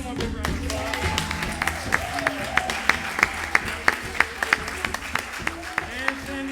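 An audience gives a round of applause. Sharp, distinct hand claps ring out one after another over a busy background, and voices can be heard talking throughout.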